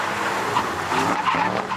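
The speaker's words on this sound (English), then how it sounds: "Let's do the brake test" An Aston Martin brakes hard from speed in a drag-race brake test, its tyres squealing and skidding loudly and continuously for under two seconds, with engine noise mixed in.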